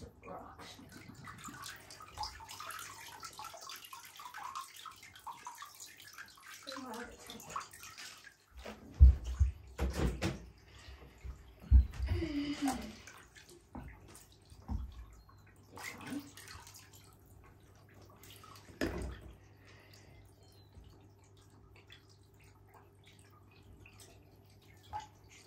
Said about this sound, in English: I'm going to put a bit of fresh water.